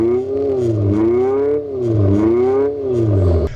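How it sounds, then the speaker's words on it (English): An Abarth 500e electric car driving with its external sound switched on gives a loud, close synthetic engine drone that rises and falls in pitch in repeated waves like revving, with no talking. "let's flick that external sound on and take this Abarth"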